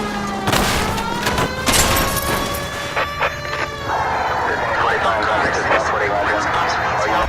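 Bursts of gunfire in the L.A. Noire video game, several sharp loud shots early on over a wailing siren tone, then a steadier noisy stretch of game sound with talk on top.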